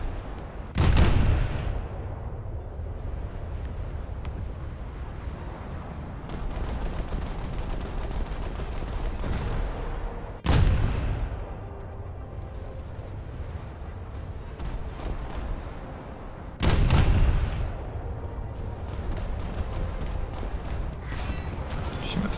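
British cruiser naval guns in a naval battle game firing three heavy booming salvos several seconds apart, each a sharp loud blast trailing off, over a constant low engine and sea rumble.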